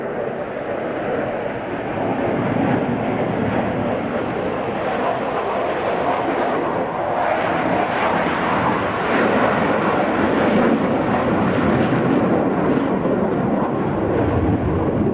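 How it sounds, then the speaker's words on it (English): An RAF Typhoon combat jet flies a display at an airshow at Eastbourne, making a loud, sustained roar with a continuous broadband rumble that barely changes, close and powerful throughout. "so modern RAF with the Typhoon display. This is the RAF's latest combat aircraft"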